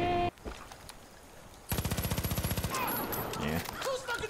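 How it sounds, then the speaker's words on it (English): Rapid automatic gunfire in Baldur's Gate 3 breaks out in a loud, evenly spaced burst of about a second, then sparser shots and clatter follow, with a brief voice nearby. "Who's fucking shooting?"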